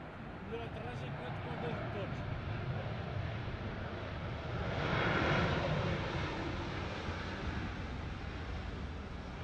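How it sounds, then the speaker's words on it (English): An Airbus A330 lands after an emergency with a left engine problem, only the right engine in reverse thrust, giving a steady loud jet roar that swells midway before easing. "You can see that only the right engine was used for reverse thrust."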